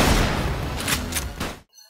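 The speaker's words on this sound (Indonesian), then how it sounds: "Misi dimulai dengan tembakan Usagi." A sniper gunshot effect in an anime, heard as a loud, dense blast with several sharp cracks that cuts off abruptly into near silence.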